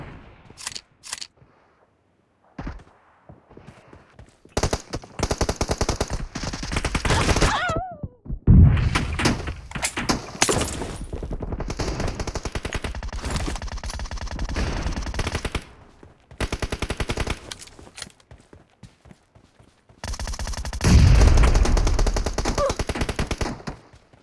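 Shotgun fire in the mobile game PUBG Mobile comes in loud, sharp bursts of blasts and thuds, separated by short silences, with repeated clusters of shots across the stretch.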